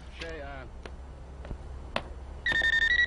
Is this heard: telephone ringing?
yes